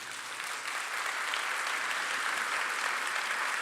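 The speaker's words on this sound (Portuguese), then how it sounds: "Aplauda Jesus Cristo." A church congregation at a Portuguese-language service claps together in steady, dense applause, a broad wash of many hands that holds even and slightly grows over a few seconds with no voices standing out.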